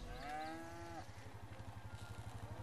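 A cartoonish cow moos once in LEGO Jurassic World gameplay, followed by a rhythmic pulsing engine-like rumble from the game that continues alone.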